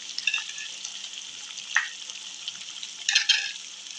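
Chicken, cut carrots and garlic frying in a pan for kids' chicken fried rice, with a steady sizzle and a few scraping stirs of a spoon near the start, middle and end, close and moderately loud with no talking.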